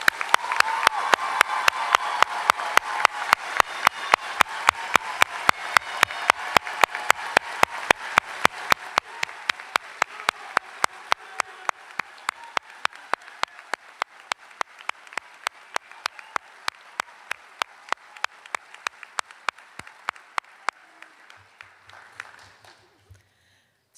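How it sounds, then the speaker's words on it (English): Audience at a university pharmacy white coat ceremony claps together in a long, steady, evenly paced rhythm, loud at first and gradually thinning and fading over about twenty seconds. "Let's give everyone a round of applause."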